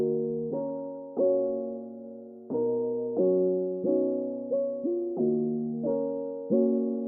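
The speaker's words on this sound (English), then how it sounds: "Then I just played an E piano chord," Soft electric piano chords struck one after another in a slow, even rhythm, each ringing and fading before the next, mellow and warm, in an Afro swing beat.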